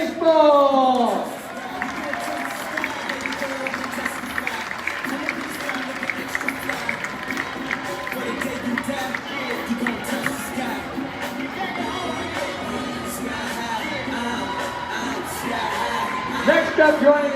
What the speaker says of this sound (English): Give a big round of applause to Raiders Baseball.